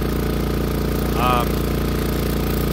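An MEP 831A diesel generator running under full load, a steady close, loud mechanical drone with a regular pulsing rhythm and a brief whine in the middle.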